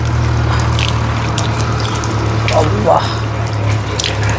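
Chilled water from a fridge bottle splashes as someone washes their face outdoors, producing wet splashes and drips close by over a steady low engine hum, with a brief spoken exclamation.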